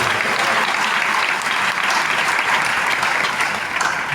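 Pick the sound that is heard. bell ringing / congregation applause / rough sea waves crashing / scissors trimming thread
congregation applause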